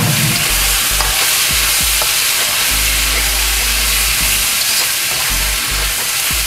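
Fried meat, already browned and lightly charred, returned to a pan and sizzling loudly and steadily, with the scrape of stirring coming through now and then; no talking.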